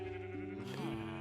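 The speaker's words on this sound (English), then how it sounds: "Those sheep are annoyingly loud." Minecraft sheep bleating in a modded FTB Beyond world, a short, loud, wavering bleat layered over a steady droning background with no talk.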